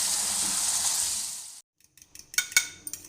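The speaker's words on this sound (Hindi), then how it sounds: "और अब हम 2 से 3 मिनट के लिए भूनेंगे।" A chicken and egg mixture frying in oil makes a steady, close sizzle that cuts off abruptly about halfway through. A few sharp clinks of utensils against cookware follow.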